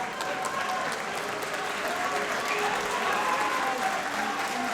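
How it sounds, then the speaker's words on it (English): Geordie crowd at a Defiant pro wrestling show in Newcastle breaking into loud, sustained applause and cheering after a near-fall, a dense wash of clapping with voices mixed in throughout. "I think there's an element of surprise in this reaction from this Geordie crowd"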